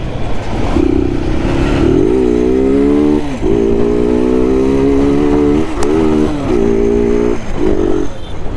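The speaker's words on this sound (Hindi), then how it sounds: "कैसा लगा साउंड बाइक का आप लोगों को मेरी?" Bajaj Pulsar 220F motorcycle engine revving and pulling hard while riding, loud and close, with rising and falling pitch through several gear changes and brief throttle lifts.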